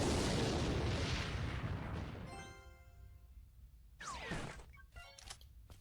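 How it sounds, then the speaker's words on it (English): A Rocket spell in Clash Royale launches and explodes with a loud, broad booming rumble that slowly fades. Short game chimes and a few sharp impacts follow. "So I threw that rocket in."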